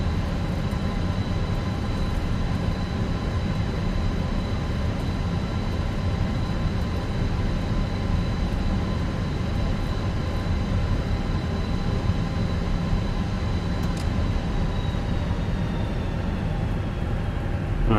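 A Lufthansa airliner rolls along an airport taxiway in Microsoft Flight Simulator, its steady engine roar and broadband rumble holding constant and close throughout, with a thin high whine fading near the end.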